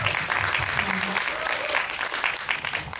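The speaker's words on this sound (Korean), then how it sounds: "박수 부탁드립니다." Audience applause fills a Korean cinema after a film screening talk for the movie 'Gull', a steady dense patter of many hands lasting throughout, with faint voices underneath.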